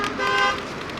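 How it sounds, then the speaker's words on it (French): A single car horn honks on a sunny country road, a bright sustained toot lasting about half a second, close and clear over low road noise, with no talk. "Ça klaxonne ses potes, ça regarde pas quand ça s'engage."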